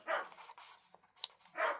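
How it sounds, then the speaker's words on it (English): Dog barking indoors, a couple of short muffled barks at the start and end with a small yip between, moderately faint and off-mic in a quiet room. "I'm so sorry if you can hear the dog barking"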